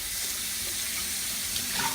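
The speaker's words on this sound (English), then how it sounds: "just give the bottle a good rinse" Running water from a tap rinses out a glass kombucha bottle at a sink, a steady, close hiss and splash throughout, no voices.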